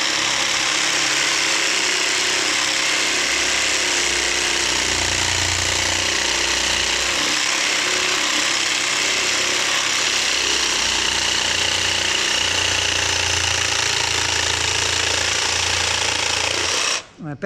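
A battery-powered tool cuts a curve in wood while its battery runs low, giving a loud, continuous, harsh grinding whine that throbs unevenly at the bottom end, then stops abruptly at the end.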